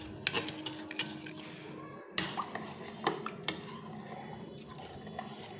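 Bel (wood apple) sharbat being stirred in a vessel, with clinks of a spoon against the container and soft liquid sloshing, close and moderately quiet, with a few sharper knocks along the way.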